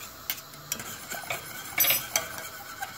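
A pot of milk with butter and sugar is stirred, giving a few light clinks and brief scraping strokes against the pot over a quiet background.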